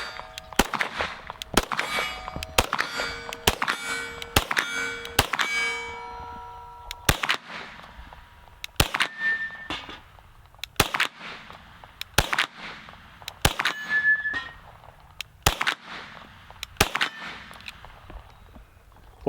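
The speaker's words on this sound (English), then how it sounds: "I hit those poppers, but they're not going down because of the frangible ammo." Frangible ammunition gunshots striking steel popper targets outdoors, a series of about fifteen sharp reports with bright ringing metallic clangs, clustered quickly at first then spaced out at steady intervals, with no talk.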